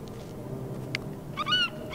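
Seagull cries in the Dear Esther video game, a short burst of gull calls rising near the end over a low ambient hum of the island.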